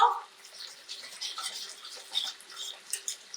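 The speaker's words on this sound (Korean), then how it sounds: "자, 물을 넣어주세요" Water poured into a vegetable stir-fry in a wok, a thin splashing trickle that is faint and close and runs unevenly for a few seconds.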